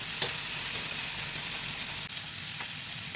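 Chicken pieces sizzle in a pan while cooking for pancit, a steady close frying hiss with faint stirring clicks throughout, no talking.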